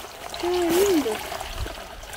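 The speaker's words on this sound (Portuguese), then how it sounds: "aqui acho que o barulho é só porque a água ganha velocidade" Fast-running water in a stream crossing overgrown land, dropping over a small fall; a steady rushing trickle with a brief voice-like tone over it early on.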